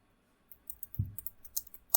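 Typing on a computer keyboard, heard as about a dozen crisp, close key clicks in a quick irregular run lasting under two seconds, with a heavier thump partway through.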